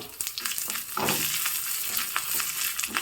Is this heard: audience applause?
no